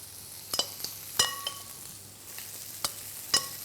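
Pork fries in a pan with a soft, steady sizzle, broken by a few sharp utensil clicks and scrapes as the meat is stirred.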